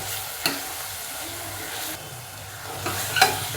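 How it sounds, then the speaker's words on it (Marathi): Spinach rice vegetables with curd sautéing in a pan, a steady sizzle with occasional scraping stirs, close and moderately loud, no voices. "चांगलं हे परतलं, भाजी ते दही भाजी सगळं चांगलं परतून झालं"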